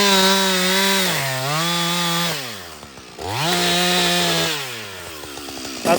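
A gas chainsaw, an ECHO CS 620P or Husqvarna 562XP, cuts while felling small timber. The engine is loud and close, climbing and dropping in pitch through two long revving cuts with a short idle dip between them.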